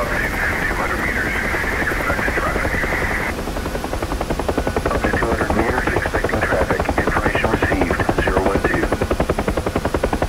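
A UH-1H Huey helicopter in the DCS flight simulator beats a loud, steady rhythmic rotor chop over its turbine whine for the whole stretch, close and continuous.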